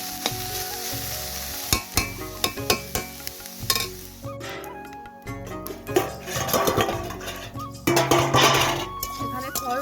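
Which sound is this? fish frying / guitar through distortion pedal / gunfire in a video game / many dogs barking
fish frying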